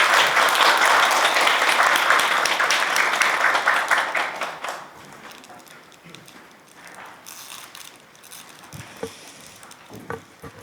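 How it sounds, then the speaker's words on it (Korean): An audience at a National Assembly forum on patient-safety education for nursing students claps to welcome a speaker. The applause starts loud and dense, then thins after a few seconds into a few scattered claps. "큰 박수로 맞이해 주시기 바랍니다."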